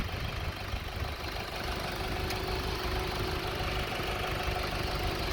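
A 2014 Honda Civic Si engine idles at a steady, close rumble with a faint ticking in the low end. There are no voices and the tone holds without change.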